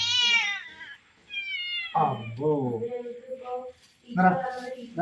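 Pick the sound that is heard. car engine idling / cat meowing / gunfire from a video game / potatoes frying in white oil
cat meowing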